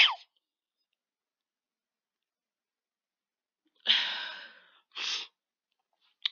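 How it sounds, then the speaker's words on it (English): A person sneezes close by in a quiet room, giving a sharp burst at the start and later a breathy, two-part sneeze followed by a brief sniff. "I just sneezed."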